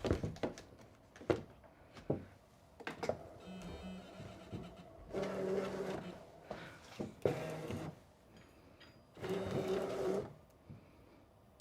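Electronic paper cutting machine drawing in a cutting mat, with repeated motorized whirring bursts separated by clicks and thunks, fairly close and moderately loud, no talking.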